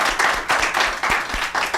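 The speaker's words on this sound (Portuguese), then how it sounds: "Vocês podem dar uma salva de palmas para vocês?" Audience applause at the close of a small-business talk in Brazil, a short burst of steady clapping from a modest crowd, fairly close and filling the whole moment without speech.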